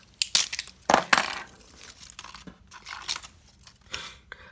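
Plastic packaging of a remote-control car toy is ripped and torn open by hand: loud, close, crackling bursts and crinkles, with a couple of strong tears and softer rustling between them.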